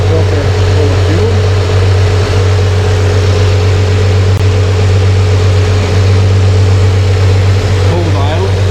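A 1954 Chevrolet 210 Deluxe four-door sedan sits at cold idle, its engine a steady, loud low hum with an even mechanical drone throughout, a faint voice showing up briefly.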